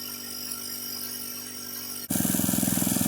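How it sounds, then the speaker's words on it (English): A gold dredge engine starts up suddenly partway through, a loud steady pulsing drone close by with a fast regular beat, following a constant tonal hum beforehand. "I've been dredging for a couple hours up and down this bedrock channel"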